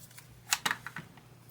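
Scissors snipping through the seam of a fabric tote bag, two or three quiet close blade clicks in a short burst against a faint room hush.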